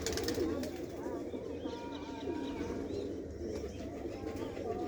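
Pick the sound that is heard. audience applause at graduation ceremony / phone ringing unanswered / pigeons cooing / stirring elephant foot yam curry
pigeons cooing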